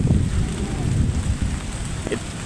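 Steady rain falls close by in a dense, hissing wash with a low rumbling undertone, continuous and fairly loud throughout.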